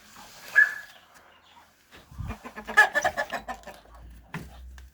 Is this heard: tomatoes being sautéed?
no